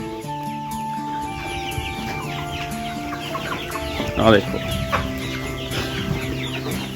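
Laying-age hens cluck steadily in a noisy farm coop, several birds overlapping throughout, with a short spoken phrase partway through.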